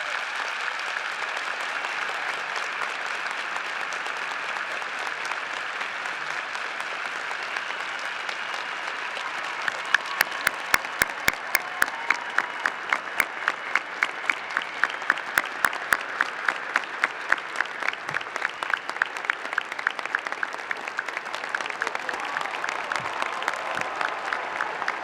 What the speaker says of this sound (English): Kevin Richardson, let's give him another round of applause